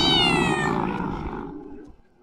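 A cat lets out a long, loud, drawn-out meow with a strained, yowling edge, close by. It fades slowly into quiet, with a low rumble running underneath.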